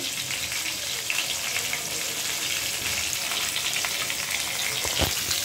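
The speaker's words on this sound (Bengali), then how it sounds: "এখানে যে মাছগুলো ভেজে নিব, কড়াইতে ছেড়ে দিয়েছি" Fish fry in hot oil in a wok, a loud, steady crackling sizzle that runs throughout with occasional pops and spatters, close and unbroken by talk.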